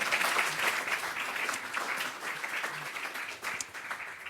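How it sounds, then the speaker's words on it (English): Audience applause fills a conference session hall at a biodiversity measurement forum, a steady wash of many hands clapping at moderate distance, fairly soft and continuous with no voices over it. "Round of applause while Philip comes up."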